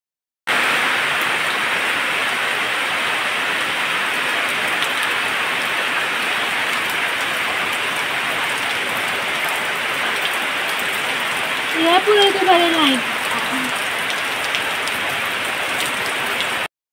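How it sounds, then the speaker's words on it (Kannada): Steady rain falling outdoors, a continuous broadband hiss throughout, with brief voice-like tonal sounds near the end. "ಮಳೆ ಬರ್ತುಂಟು"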